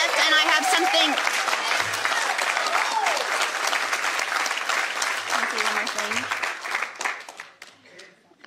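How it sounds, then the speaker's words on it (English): A crowd at a live Stephon Clark protest claps steadily for several seconds, loud and dense, while scattered voices and cheers rise through it before the noise thins out near the end. "The clapping took 10 seconds of mine"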